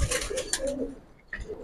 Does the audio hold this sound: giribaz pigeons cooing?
yes